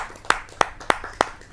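Scattered, sparse claps from a kavi sammelan audience greeting a Hindi ghazal poet, four distinct sharp claps spaced evenly rather than full applause, fairly close with no talking.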